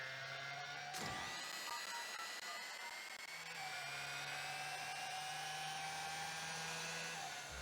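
Ford Mustang Mach-E electric motor in a racing video game, a high-pitched whine of layered tones that sweep and shift as the car accelerates, loud and continuous with no talking.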